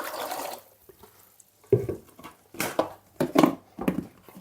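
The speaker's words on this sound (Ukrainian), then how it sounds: "переливаємо воду." Water is poured into a 5-litre plastic bucket used for feeding bees, coming in uneven splashing bursts after a quiet pause, close by.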